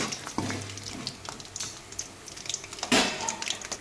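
Chillies coated in gram flour batter frying in hot oil as mirchi bajji, a steady soft crackle and sizzle with a brief louder burst of bubbling near the end.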